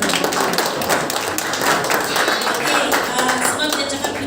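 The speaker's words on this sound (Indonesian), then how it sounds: "Oke, bolehlah tepuk tangan." Crowd clapping at an Independence Day worship service in Malaysia: dense, continuous, loud applause from many people filling the room without pause.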